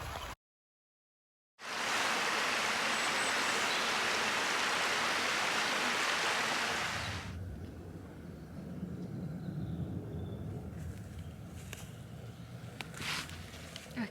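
Natural hill water flows from the fields in a stream beyond a wall, a loud, steady rush that drops away after a few seconds to a quieter, softer trickle.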